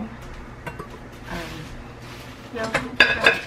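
Utensil clinking and scraping in a bowl while yogurt and egg are mixed for almond gluten-free bread, light taps building to a few sharper clinks near the end, with soft room noise and no talk.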